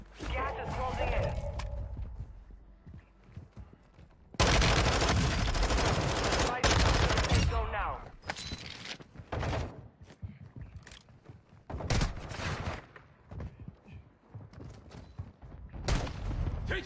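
Gunfire in Call of Duty Warzone 2.0, with loud sustained bursts of automatic fire and scattered single shots mixed with in-game radio voices and player speech.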